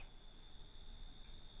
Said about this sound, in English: I think the silence would be deafening if not for these cicadas